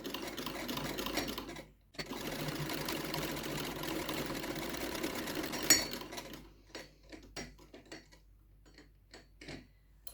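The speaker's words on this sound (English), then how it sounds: "hopefully then I can sew up the back seam" Sewing machine stitching the back seam of a Harris Tweed Edwardian skirt, a steady close mechanical whirr for about six seconds with a brief pause, then short stop-start bursts of stitching.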